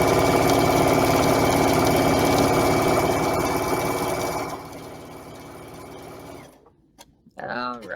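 Sewing machine stitching a quilt block, a fast steady mechanical whir close by that slows and stops partway through, followed by brief quiet and rustling.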